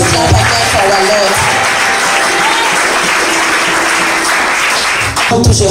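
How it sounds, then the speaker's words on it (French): A church congregation applauds during a Sunday service, loud sustained clapping from a large crowd filling the room for several seconds, with voices mixed in and a brief dip near the end. "Ce n'est pas mauvais d'acclamer encore une fois pour notre Seigneur."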